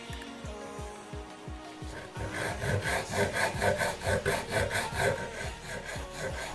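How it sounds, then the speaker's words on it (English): Hand sawing through a plastic 12V plug casing: a steady back-and-forth rasp that starts with light, separate strokes and then turns into a louder, even rhythm of close strokes. "Now let's put the plug casing back together because we need to cut it."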